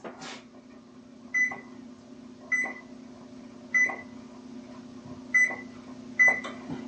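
Five short electronic beeps from an oven control panel, set to 425 while the oven is switched on for baking bagels, evenly spaced about a second apart over a low steady hum, close and fairly quiet.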